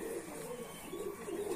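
A high-flying pigeon coos softly up close, a low, rolling repeated call with a gentle wavering rhythm.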